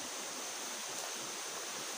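A small river flows through dense, overgrown brush, giving a steady, even rush of water noise with no voices.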